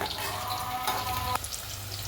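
Continuous sizzling of eggplant sautéing in hot oil, close and steady, with a light scrape of stirring midway.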